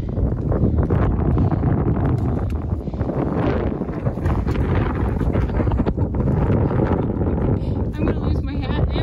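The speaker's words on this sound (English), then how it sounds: "It's so windy." Strong wind batters the microphone on a mountain section of the Appalachian Trail between Spring Mountain and Jerry's Cabin Shelter, a loud, continuous roaring buffet that lasts the whole stretch with no letup. Voices talk underneath it.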